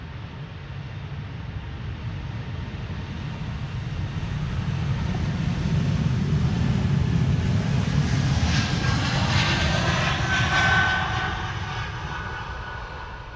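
An Air Baltic airliner on flight 618 to Riga departs Amsterdam Schiphol, its engines a broad, steady roar that builds, holds and then eases slightly, heard from a distance without talk.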